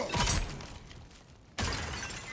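A mysterious crystal shattering in God of War Ragnarök: a sharp glassy burst near the start with tinkling debris that fades, then a second bright crash about a second and a half later.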